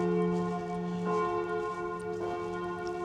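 Church bells ring out loud and close, striking the hour in Füssen with sustained, overlapping metallic tones. Fresh strikes land at regular intervals, and no one talks over them.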